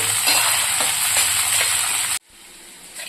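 Peeled garlic cloves stir-fry in a pan of oil for a garlic pickle, a steady close sizzle with stirring that cuts off abruptly, leaving only a faint quiet background.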